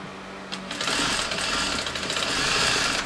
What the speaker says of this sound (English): So stretch the fabric as you are sewing it.